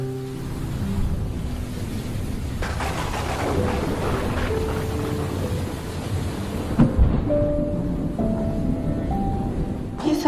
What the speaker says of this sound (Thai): ข้างนอกเสียงฟ้าผ่าดังมากเลยอะ่ะ